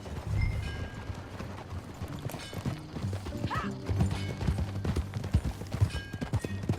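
Horse hooves clip-clop steadily at a walk in Red Dead Redemption 2, a close, moderately quiet rhythmic patter with faint ambient game noise behind.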